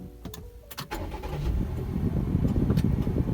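A Perodua Myvi fitted with a throttle controller cranks with a few sharp clicks, then catches and settles into a steady, close engine idle.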